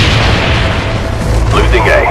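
Loud, deep rumbling napalm strike explosion in Call of Duty Black Ops, a sustained heavy roar of fire and blast filling the whole stretch.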